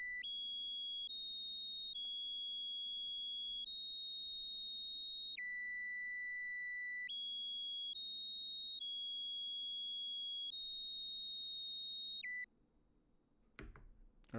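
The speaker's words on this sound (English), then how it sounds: "Here's our next sound right here, which is a lead." Synth lead in an old Atlanta-style trap beat: bright, pure, beeping sustained tones that step between a few pitches in a repeating pattern, loud and alone for about twelve seconds, then cut off.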